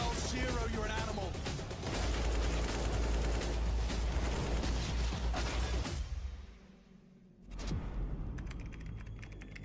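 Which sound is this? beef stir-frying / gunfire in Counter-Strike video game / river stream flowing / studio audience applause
gunfire in Counter-Strike video game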